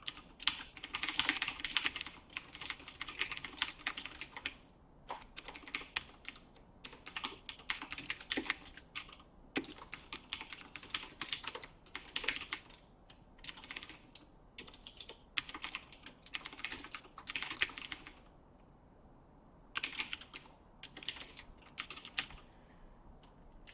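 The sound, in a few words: typing on a computer keyboard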